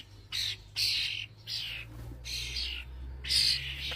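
Jackdaws give a series of sharp, harsh squawking calls in a garden in the morning, about six bursts in irregular rhythm, fairly close, over a low steady background hum.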